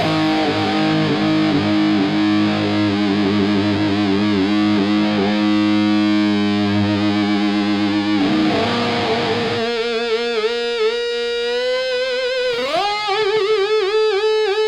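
Electric guitar with a sustainer feeding a Marshmallow pedal, producing long, smooth, distorted sustained notes with an EBow-like swell, held chords giving way to gliding single lines, loud and continuous with no talking.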